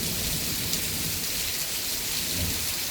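Heavy rain hammers down during a thunderstorm in south-east London, a dense, steady roar of drops with low rumbling beneath, close and continuous with no speech.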